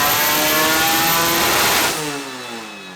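Honda H22 engine with Skunk2 BMF cams screams loudly through a dyno pull, then drops off as the revs fall near the end.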